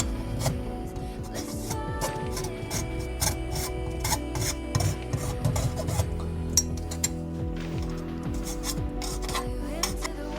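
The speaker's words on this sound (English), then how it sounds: "So we're just filing off all the rough edges" A metal file rasps back and forth over the rough edges of a water line fitting in a quick, repetitive rhythm of scraping strokes, close and clear, with brief pauses between bursts.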